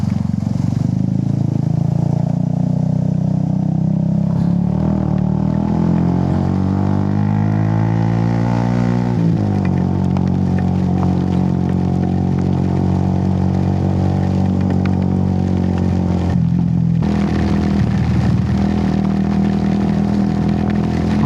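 A motorcycle ridden in heavy rain on a loop around Taal Lake in Batangas; the engine revs up in a rising whine, then settles into a steady, loud drone over a constant hiss of rain and road spray.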